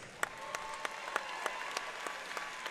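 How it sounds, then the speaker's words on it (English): Sparse applause from the crowd at an MMA event for both fighters, fairly faint and distant, with a handful of sharper individual claps standing out at a roughly regular pace over a thin background. "How about a round of applause for both fighters?"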